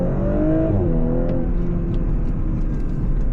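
2020 Audi S5 Coupe accelerating hard at full throttle, its engine note climbing steadily in pitch as it revs up, then settling into a smoother roar heard from inside the cabin.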